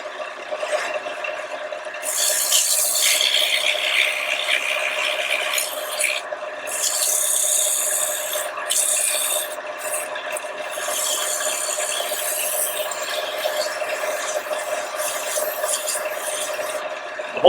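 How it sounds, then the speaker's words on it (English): Steady rasping sanding on a handmade wooden box in a woodworking shop, long continuous rubbing strokes with brief pauses between passes, close and fairly loud. "Let's do a little sanding."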